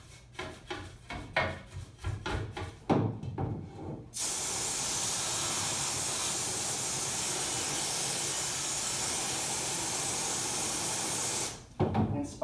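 A water sprayer rinses coating emulsion off a screen with a steady, close, loud hiss lasting several seconds. Shorter bursts and brushing or rubbing noises come before it, and the hiss cuts off abruptly at the end.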